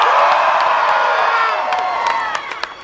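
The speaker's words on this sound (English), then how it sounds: "Maybe we should just save the applause for the end." A large convention crowd at a Comic-Con panel with Joss Whedon and JJ Abrams erupts in loud applause and cheering with whoops, sustained and dense, slowly fading over a few seconds.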